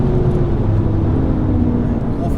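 A BMW M5 engine drones steadily throughout on a track, revving under load through acceleration and light braking with a continuous low rumble, while a voice talks over it.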